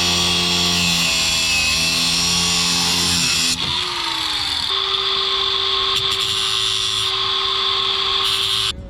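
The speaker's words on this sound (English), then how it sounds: "So I'm going to cut 10 threads off of this with the grinder tool." A grinder cutting threads off an E90 inner tie rod, a loud high continuous whine that shifts pitch partway through as the load changes, close up, running steadily for the whole stretch without talk.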